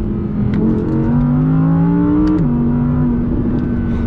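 Audi R8 fitted with an APR kit revving hard, the engine tone climbing steadily before a quick gearbox shift drops the pitch, loud and close with no talking.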